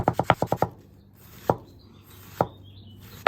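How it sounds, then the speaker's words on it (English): A knife slices thinly through an onion halved flat on a cutting board, first with six quick, evenly spaced crisp chops close by, then with three slower single cuts separated by pauses. "So you have to cut the onion in half to get a flat surface."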